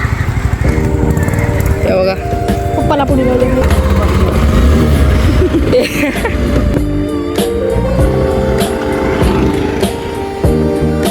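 Motorbike riding along a road at evening with an auto-rickshaw behind, a steady close engine drone with shifting revs throughout, while a person talks over it.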